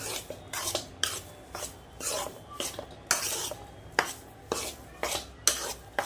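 Besan flour roasting in ghee over a low gas flame, stirred with a spoon that scrapes and knocks against the pan in regular strokes about twice a second, close and moderately quiet, with no talking.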